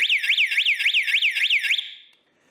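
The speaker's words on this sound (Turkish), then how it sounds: "Islak bir mendili değdirdiğim an sistem ışığını yaktı ve alarma geçti." A water leak detector alarm warbles loudly in rapid repeating electronic sweeps, about a dozen pulses, then cuts off and fades into silence.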